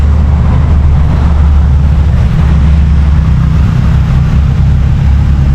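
Loud, steady wind buffets the microphone, producing a constant low rumble with no other clear sounds.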